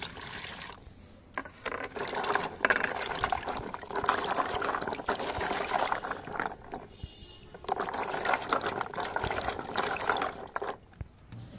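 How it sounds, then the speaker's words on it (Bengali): Water is poured into a cooking pan in bursts, a splashing liquid stream starting and stopping close by, used for boiling jackfruit-seed dal. "কড়াইয়ের মধ্যে এবার আম্মু কিছু পরিমাণ পানি দিয়ে দিচ্ছে"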